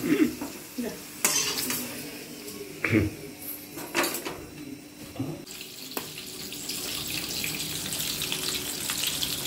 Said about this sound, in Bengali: তো আমাদের ক্রিপসি ক্রিপসি আলু ভাজা